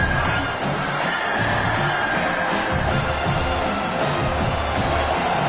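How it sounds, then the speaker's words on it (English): A college football crowd at SMU versus South Carolina roars loudly and without a break across the stadium during a defensive third down, a dense wall of cheering and shouting. "Listen to this crowd just shaking the girders of this place, trying to help their defense."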